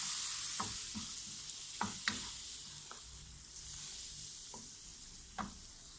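Chili powder masala sizzling steadily in a pan as vinegar is stirred in for a sardine pickle, with a soft continuous fry hiss and a few sharp spoon scrapes and clicks against the pan, no voices.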